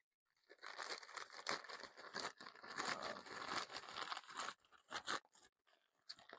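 Scissors cutting and tearing open plastic packaging around skeins of chunky yarn, a steady crinkling, crunching rustle up close that stops briefly and resumes, with no talking.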